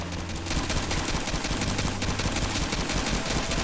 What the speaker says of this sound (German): Jetzt werde ich hier von hinten erschossen.